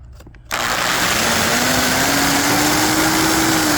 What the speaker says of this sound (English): take either a carbide bit or a sanding roll here and level it back in